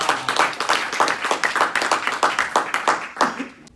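A Bible institute class claps together in a rhythmic, pulsing burst for several seconds, fairly close and loud, with a few voices mixed in before it fades at the end.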